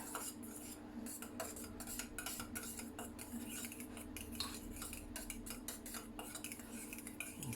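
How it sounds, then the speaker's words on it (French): A small whisk stirs a face and body cream in a bowl, giving a steady run of quick, light metallic scraping and clicking strokes close up, continuous with no talking. "Alors, petit fouet."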